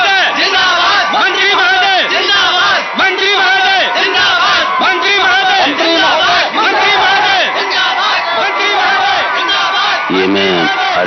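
A large, dense crowd in India shouts and chants for a government minister, a loud, continuous roar of many voices crying out together close by for the whole stretch.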